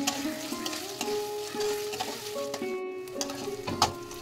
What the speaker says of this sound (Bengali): পেঁয়াজ কুচিগুলো আমি হালকা ব্রাউন করে ভেজে নিচ্ছি